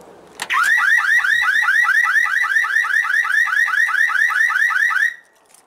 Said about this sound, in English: but the alarm is also triggered.